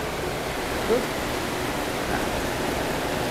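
Rain falling on a Mountain Inn Sports Morning 2+ Air camping tent, a steady hiss of drops on the fabric heard from inside, even and continuous at moderate volume.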